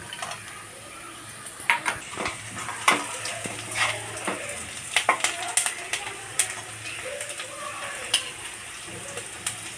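Green chillies and cashews frying in a pan for restaurant-style paneer tikka masala curry, a low steady sizzle broken by repeated clinks and scrapes of a spoon stirring against the pan.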